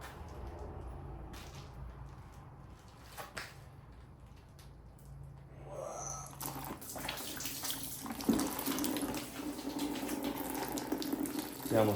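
Water or coolant pouring from an engine block rotated on a stand in a workshop: quiet clanks and taps at first, then a running, splashing liquid flow that grows louder and steadier.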